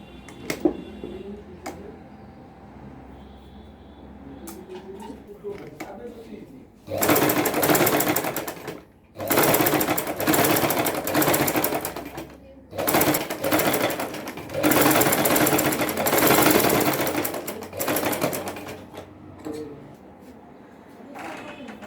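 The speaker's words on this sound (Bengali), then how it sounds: "এরপর আমি এই যে এভাবে সেলাই করে নেব" Sewing machine stitching a boat neck collar on a garment, running in several loud sustained bursts separated by short pauses, with quiet handling sounds before it starts.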